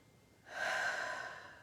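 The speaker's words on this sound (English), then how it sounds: "breathing deeply" A single slow, deep inhalation heard up close, a soft airy rush that swells and then gradually fades, with no other sound around it.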